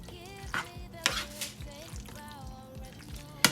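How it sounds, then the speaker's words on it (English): Casserole ingredients being stirred together in a bowl, with soft repeated scraping and a few light clinks of a utensil against the dish, over a steady background hum. "So all we're going to do now is stir all this together."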